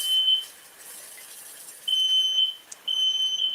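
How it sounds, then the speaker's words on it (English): A smoke alarm in a kitchen, set off during cooking, sounds three bursts of shrill electronic beeping: a short burst, a pause, then two longer runs, loud and close, with no talking. "He set off his fire alarm, ladies and gentlemen."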